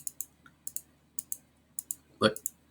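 Mouse clicks to run a program for a Circuit Playground board, crisp paired clicks repeating in an even rhythm, close and fairly quiet, with one short voice burst near the end.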